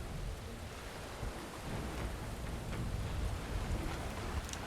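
In the video game Metaphor: ReFantazio, a thunderstorm brings steady, dense rain with a deep, rolling rumble of thunder. The storm swells slightly over several seconds and plays alone, without speech.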